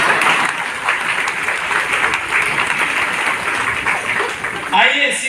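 An audience at a Hindi poetry recital breaks into sustained applause, a dense wash of many hands clapping close and loud, tapering off near the end as a voice starts to speak.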